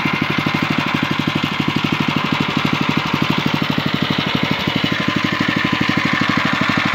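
A Lifan 8 hp engine fitted to a Neva MB-1 walk-behind tractor runs steadily nearby, a loud rapid even chugging pulse that continues throughout with no voices.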